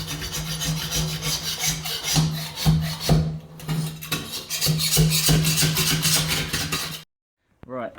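Cured silicone scraped off the back of a concealed shower fitting with a sharp replaceable-blade scraper, giving steady close rasping strokes with short gaps, ending abruptly in near silence with a faint knock.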